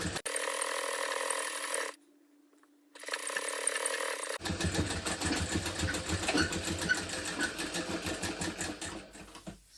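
A sewing machine runs a double stitch in a rapid mechanical whir. It stops briefly, then resumes with a dense, rhythmic clatter of needle strokes close by.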